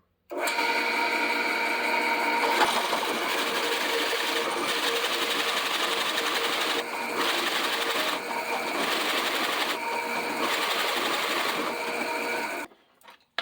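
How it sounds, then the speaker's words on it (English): A 1 3/8 inch Forstner bit boring into Southern Yellow Pine end grain at 280 RPM, a loud continuous droning whir of the drill that holds steady for about twelve seconds, briefly dipping in places, then stops. "So we've got a 1 3/8 inch Forstner bit going into Southern Yellow Pine end grain, and we're running at 280 RPM."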